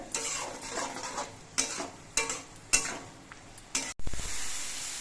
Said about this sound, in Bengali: কড়মা মশলার সঙ্গে নুন হলুদটা ভালো করে মিশিয়ে নিয়ে গরম চাগুলো বেশ কিছুক্ষণ নাড়াচাড়া করে নিতে হবে